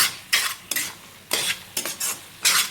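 Thick pumpkin halwa being stirred in a pan as it dries out, heard as a series of rough scraping strokes in uneven bursts with short quiet gaps between them, close and fairly loud.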